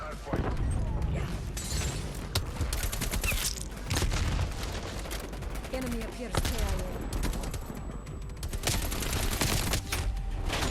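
Gunfight in Call of Duty Cold War, with rapid bursts of automatic rifle fire and sharp single shots cracking close by in quick clusters, several loud volleys across the stretch amid game noise and a talking voice.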